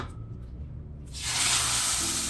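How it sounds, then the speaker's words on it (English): A Wagyu New York strip steak hits a smoking-hot pan with butter and olive oil, sparking a sudden loud, steady hiss of searing that stays close and continuous after a quiet start. "you want your pan to be smoking like it is now. And then we are going to drop in our New York Wagyu"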